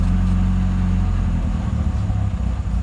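An MG Midget engine runs steadily during a rev counter check, a loud, close, low rumbling idle with a slight shift in tone partway through.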